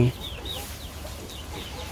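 Laying hens clucking at home during the rainy season, giving soft, scattered calls at a moderate distance over steady low background noise, with no talk.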